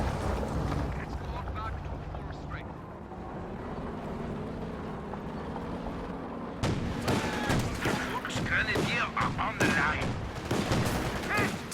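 Flak panzer firing on infantry squads in a real-time strategy game, rapid cannon bursts crackling over rumbling battle noise, growing denser and louder in the second half beneath steady commentary.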